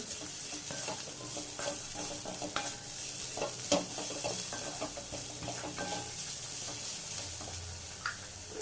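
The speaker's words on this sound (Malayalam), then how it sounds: "ഉപ്പും കൂടി ചേർത്തൊന്ന് വഴറ്റാം." Beetroot sautés in a pan with salt added while a utensil stirs it, producing a continuous close sizzle with frequent scraping and clinking strokes and no voices.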